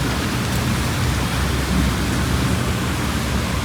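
Rain falls on a street in Saudi Arabia, making a dense, even wash of noise with no pauses, loud and close, with no voices.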